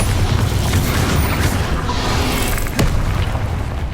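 The Bombarda blasting spell from the Hogwarts Legacy video game explodes in a loud, rumbling boom of dense noise that rolls on for several seconds, with a brief crack partway through.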